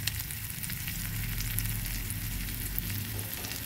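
Tomatoes and a little dry cumin powder fry in a pan, giving a continuous, even hiss and crackle at moderate loudness, close by and with no voices.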